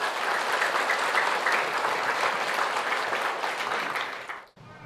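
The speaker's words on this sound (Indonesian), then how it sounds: "Tepuk tangan yang meriah." Loud, enthusiastic applause from an audience at an Indonesian motivational seminar, a dense steady clatter of many hands that fades and stops near the end.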